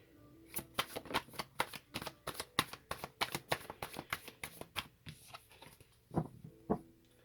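A deck of Light Seers Tarot cards being shuffled, a run of quick crisp riffles and flicks in close succession, then a couple of louder slaps as the cards settle, heard alone and fairly quiet.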